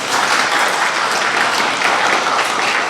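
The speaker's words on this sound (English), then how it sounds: "You can give him a big clap as he comes out" Loud, dense applause from a school assembly audience clapping for a Year 3 student coming forward to receive a Term 4 attendance award, steady and sustained throughout.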